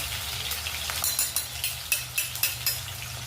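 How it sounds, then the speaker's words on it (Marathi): Capsicum and carrot fry in a pan for fried rice, with a bright sizzle under a run of quick, rhythmic spatula scrapes and clicks. "आता नरम होईपर्यंत फ्राय करायचे"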